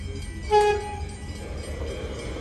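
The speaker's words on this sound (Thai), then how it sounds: "รถไฟก็มาแล้วนะคะ" A train pulls into a Melbourne railway station, sounding a short loud horn blast near the start, then rumbling on with a low, steady rolling noise.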